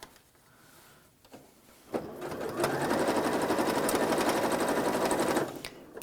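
A home sewing machine stitches a fabric potholder with coordinating thread, a close, loud, rapid mechanical whirr that starts after a few soft handling clicks and runs steadily for several seconds before stopping.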